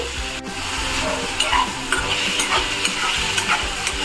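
Paneer pieces fry in a hot pan for paneer curry, a steady close sizzle broken by repeated scraping stirs and light clinks, with no voices.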